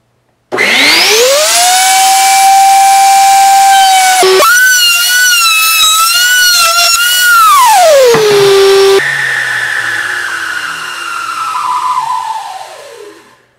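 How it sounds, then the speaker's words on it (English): A router with a round nose bit cutting wood: the motor whines up to speed, holds a high, shifting tone while the bit cuts, then drops in pitch and winds down to quiet. "I'm going to take this cut out next with using a round nose router bit"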